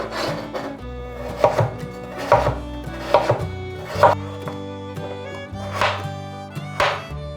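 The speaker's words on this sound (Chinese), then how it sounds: "把红萝卜切条，" A knife chops a peeled carrot into strips on a cutting board, sharp evenly spaced strikes about once per second, close and crisp over soft background music.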